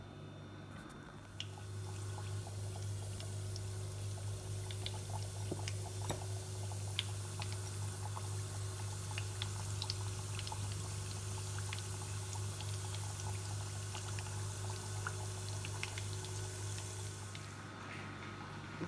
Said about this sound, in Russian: И опускаю в нашу кастрюлю с раскаленным растительным маслом.